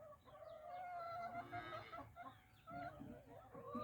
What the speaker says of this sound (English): That's a rooster here. That's a rooster.